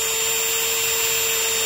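A cutting tool refaces a bent engine valve, making a steady, loud grinding whine with one constant high tone, close and unbroken throughout, with no talking.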